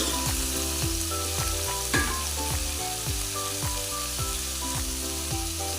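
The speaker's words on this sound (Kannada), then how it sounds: "ಇದು ಕೂಡ ಸ್ವಲ್ಪ ಎಣ್ಣೆಯಲ್ಲಿ ಫ್ರೈ ಆಗಬೇಕು" Chopped, washed ridge gourd fries in oil in a pan, giving a steady sizzle broken by repeated rhythmic scrapes of a stirring spoon.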